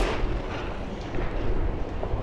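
A shotgun blast in the horror video game Fobia St. Dinfna Hotel, a loud, dense boom with a rumbling low-end tail that fills the whole moment, with no talk over it.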